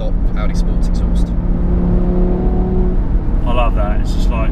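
Inside an Audi RS3 with a factory sports exhaust, a steady engine drone hums continuously at close range. Someone talks over it briefly at the start and again near the end.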